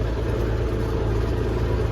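A Massey Ferguson 1135 tractor with a Perkins diesel engine, recently rebuilt injection pump, idles nearby in a steady low throb with an even, unchanging rhythm.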